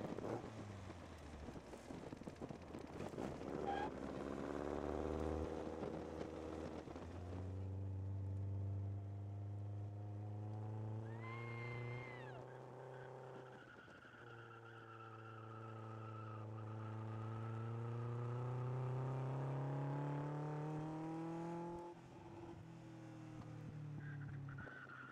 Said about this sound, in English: This car is very powerful and very fast.